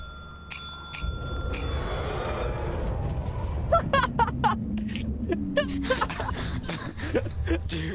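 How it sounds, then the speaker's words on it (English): A bell rings several times in quick succession near the start in the video game Lethal Company, followed by busy game sounds and scattered voices and laughter. "I rang the bell."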